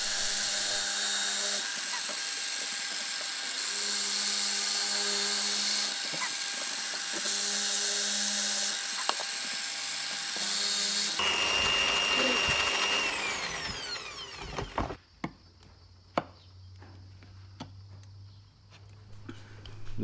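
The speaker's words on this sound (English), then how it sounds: "So I had to use a hand drill." A power drill whines loudly and steadily while boring through plywood, running for several seconds before it cuts out, leaving quieter clicks and handling noises.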